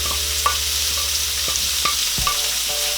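Onions sizzle in hot oil in a pan for Filipino humba, with a steady broad hiss of frying and a few light scrapes and taps as they are stirred.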